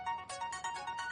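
A telephone rings with an incoming call, an electronic ringtone of quick repeated bright pulses, close and clear, alone with no talk.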